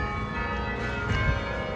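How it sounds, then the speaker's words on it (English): Church bells chime steadily on a Seattle street, a sustained ringing tone that fills the whole stretch and swells slightly near the end as someone walks past them. "So those are the church bells, and you're gonna hear them chime as I walk by."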